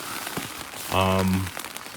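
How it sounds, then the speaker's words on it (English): Rain falls around a camp on the Arizona Trail, a soft steady crackle of drops on a surface. A brief voice-like tonal sound rises over it for about half a second midway. "It has been raining, just like they said."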